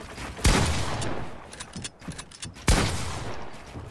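Shotgun fire in a video game: two loud, sharp blasts about two seconds apart, each followed by a short rumbling tail, with smaller scattered game sounds in between.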